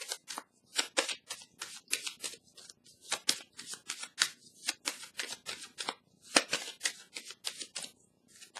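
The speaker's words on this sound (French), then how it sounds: "Je vais déposer une dernière carte sur celle de la fertilité à l'envers, de la sorcière." Tarot cards are handled and laid down one on another in a quiet room, a quick run of crisp, close papery flicks and slaps repeating at an irregular pace, with no voices.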